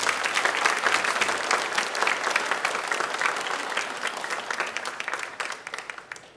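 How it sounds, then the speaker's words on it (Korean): A church congregation applauds during an Easter Sunday service after a cantata, steady broad clapping from many hands that gradually tapers off and fades at the end. "감사하며 우리가 박수하겠습니다."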